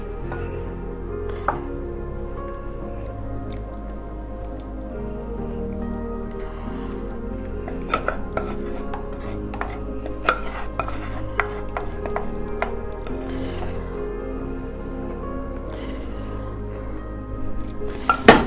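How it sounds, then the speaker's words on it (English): A whisk works jaggery into warm milk in a pot for Kolkata-style mishti doi, making scattered metallic clinks and taps against the pot's sides over a low, even background, with no speech. "I'm going to use my whisk and just make sure it's all nice and smooth and melted really well incorporated in it."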